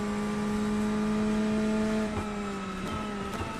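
A GT3 race car in the iRacing sim, its engine a loud, steady whine with strong harmonics that holds pitch and then drops slightly as the revs fall, with a faint tyre noise under it.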